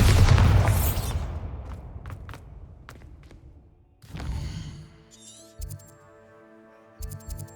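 A heavy booming blast from the Bombarda explosion spell in Hogwarts Legacy, loud at first and then decaying into a long rumbling tail, followed by smaller thuds and a few chiming magical tones.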